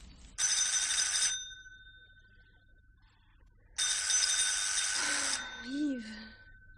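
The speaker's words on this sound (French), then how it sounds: "le téléphone" An old bell telephone in a 1970s French film rings in two long loud bursts separated by a pause, followed by a short sleepy vocal murmur at the end.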